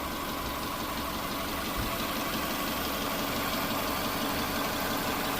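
A 2004 Subaru Impreza Outback Sport 2.5 engine idles steadily after a timing belt replacement with an Aisin kit, a close, even rumble running continuously without any talk.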